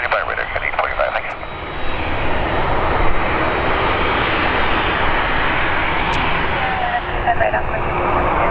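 Air Canada Boeing 787-9 Dreamliner in new livery landing at Calgary, a steady loud broadband jet roar sustained throughout, with faint radio chatter beneath.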